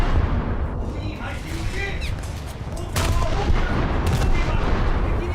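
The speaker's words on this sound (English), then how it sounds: "'25s are firing at something" Naval guns in a warship battle game boom in a steady barrage, with heavy low rumble throughout and a louder burst of fire near the middle; a player talks over the gunfire.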